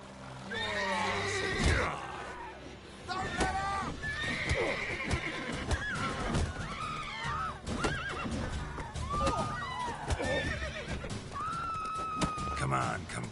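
In The Witcher 3, a horse neighs and whinnies repeatedly as its hooves clip-clop, with game voices talking over the action throughout.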